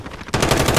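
Video game gunfire opens up after a brief lull, a loud, close burst of rapid automatic shots firing in a steady rattling rhythm.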